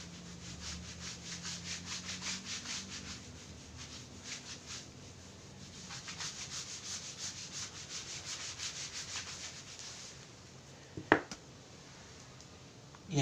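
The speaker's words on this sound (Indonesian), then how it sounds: "Ini Bapak hapus dulu." Eraser rubbed back and forth across a classroom whiteboard, a rhythmic close scrubbing in repeated strokes for about ten seconds, then a brief knock and pause.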